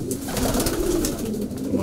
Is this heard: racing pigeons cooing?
yes